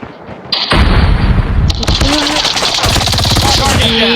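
Loud, dense gunfire in a first-person shooter video game, rapid automatic bursts that continue almost without a break after a brief quieter opening, close and harsh with no talking.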